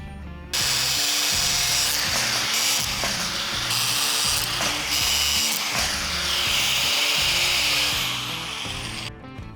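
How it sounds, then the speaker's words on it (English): Round steel stock being cut into short five-inch pieces with a power tool, a loud continuous grinding, rasping cut running steadily for about nine seconds with no talk. "I then measure and cut 4 5-inch pieces of round stock to be welded to one of the pieces of flat stock."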